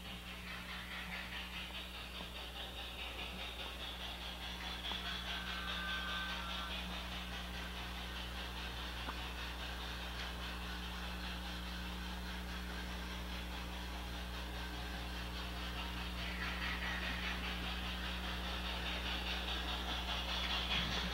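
LGB model trains running on a track layout with automatic route selection: a steady low mechanical hum and faint rolling rumble that continues evenly throughout, quiet and without voices.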